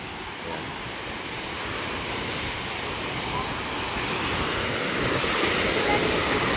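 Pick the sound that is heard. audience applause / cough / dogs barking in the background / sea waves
sea waves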